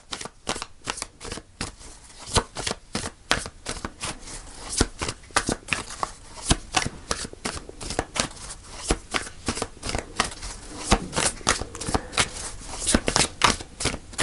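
Tarot cards are shuffled and drawn up close, with a continuous run of crisp riffles, flicks and snapping card edges that carries on for around fourteen seconds.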